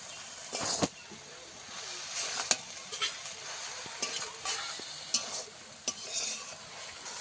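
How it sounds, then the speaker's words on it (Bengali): Leafy kulekhara greens and small shrimp sautéing with ground spices in a pan, giving a low steady sizzle broken by intermittent scraping stir strokes, close and moderately quiet. "শাকটাকে একটু কষাতে হবে বেশি করে। চিংড়ি মাছটাকে দিয়ে দেবো"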